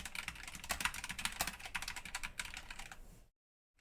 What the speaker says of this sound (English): And this one is in the world of the noisy spacebar.